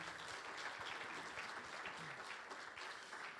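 An audience applauds the jury at a flower event, dense sustained clapping from a crowd filling the room at moderate distance, steady throughout with no voices over it.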